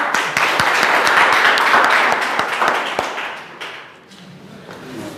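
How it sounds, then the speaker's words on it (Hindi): Students at a Class 10 and 12 results celebration at a school applaud their teachers with loud, dense clapping and a few sharp standout claps, which fade out during the last seconds. "जोर से ताली बजाओ"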